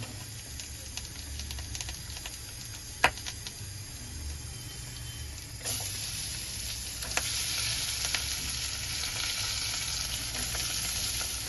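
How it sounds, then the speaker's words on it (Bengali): Onions frying in oil in a pan, browning with a steady, soft sizzle and crackle that grows a little louder partway through, with a sharp clink near the start and no voices. "এই তেলেতে আমি পেঁয়াজগুলো ভালো করে লাল করে নেব।"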